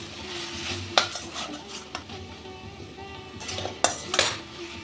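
Bitter gourd sautéed with ginger paste in a pan, a low sizzle under repeated scraping and clinking strokes of a spoon against metal, a few sharper knocks standing out.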